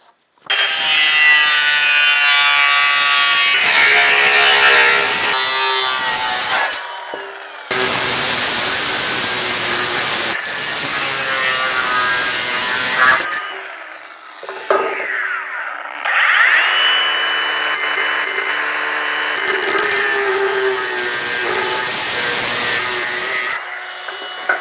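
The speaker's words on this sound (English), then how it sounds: "Thank goodness for big saws." A big saw cuts through wood in long, loud, continuous rasping strokes close by, with brief pauses and a change of pitch as the cut proceeds.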